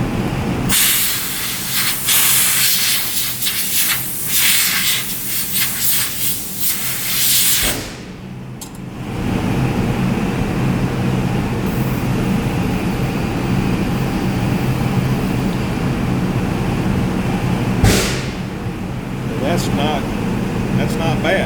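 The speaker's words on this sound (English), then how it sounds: "It's not that difficult to spray. Now he's got a lot of powder coming out." Powder coating spray gun blasting a heavy stream of powder, a loud continuous broadband hiss that runs almost unbroken for over twenty seconds, with one brief gap and a sharp burst near the end.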